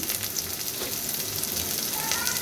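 Ingredients sautéing in a pan for Filipino chicken tinola: a steady, close sizzle and crackle of frying runs throughout with no voices.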